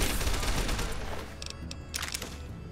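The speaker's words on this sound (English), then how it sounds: "Hunting shotgun." Hunting shotgun blasting in the game Fallout: New Vegas, a loud close burst of gunfire that rolls into a dense rattle and fades out with a few sharp metallic clicks.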